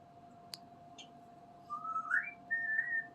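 Smokey, a pet bird, gives a few soft whistled notes: a brief chirp, then a rising, gliding whistle and a steadier held tone, close by and fairly quiet against a faint steady hum.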